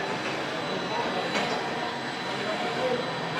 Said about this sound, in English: We're on the train, pulling out.